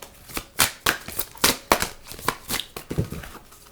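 Oracle cards, an Indigo Angel deck, being shuffled by hand in a quick run of crisp riffling bursts, roughly a dozen papery slaps at a steady rhythm, close and clear with no talking.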